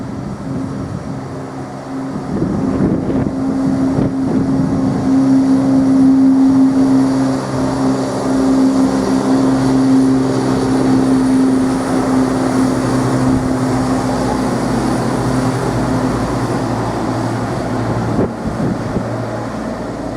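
A Class 172 diesel passenger train, unit 172.03, pulls away from a station with a loud, steady engine drone that builds and holds for about twenty seconds, close by and with no talking over it.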